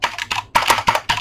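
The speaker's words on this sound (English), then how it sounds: "So I'll type in the full version." Rapid bursts of typing on a computer keyboard, close and fairly loud, with clustered keystrokes separated by short pauses and no talking.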